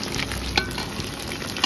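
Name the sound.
pakoras frying in oil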